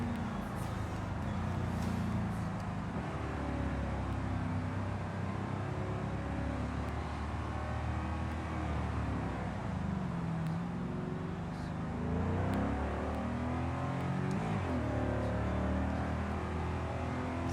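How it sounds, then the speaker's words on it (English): A video game sports car engine drones steadily at highway speed with low rumbling road noise, revving slightly in places, continuous throughout with no talking. "Azora, you can't go 160 in the sports car going down the highway when one of your trailers is missing a wheel"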